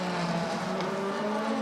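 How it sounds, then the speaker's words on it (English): Race cars at the 6 Hours of Monza, a Porsche chased closely by a Ferrari, steady high engine drone heard at a distance with a slight pitch shift, no talk. "here we got the Porsche number 6 with Kevin Estre at the wheel, being chased heavily by Pierre Guidi in the number 51 Ferrari"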